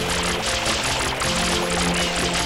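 A water-spraying nozzle in Super Mario Sunshine gushes in a loud, continuous rushing spray, close and unbroken throughout.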